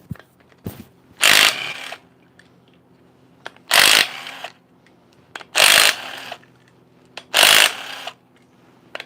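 Loud ratchet and tool bursts as side bolts come off an LS3 engine during teardown, four strong whirring pulses of about a second each, separated by short quiet gaps with faint clicks.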